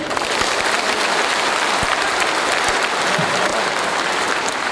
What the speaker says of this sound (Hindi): क्या उनके लिए आप ताली बजाएंगे?